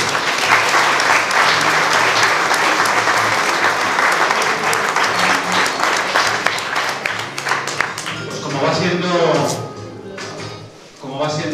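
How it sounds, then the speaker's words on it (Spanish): Hearty applause from a village crowd at a festival proclamation in La Zarza de Pumareda, loud, dense clapping that thins toward the end while voices emerge beneath it. "Un aplauso para todos."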